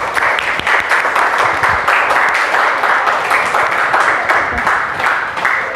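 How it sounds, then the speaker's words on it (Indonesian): A classroom of students gives applause for a classmate standing at the front, loud, steady clapping from many hands that continues throughout without pause. "berikan aplaus dulu untuk teman kita yang di depan ini"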